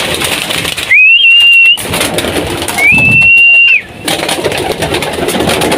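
Pigeons in a loft with two clear, sustained whistle-like calls over a steady bed of rustling and murmuring bird noise, close and loud.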